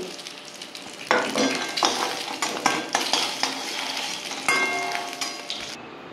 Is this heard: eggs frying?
yes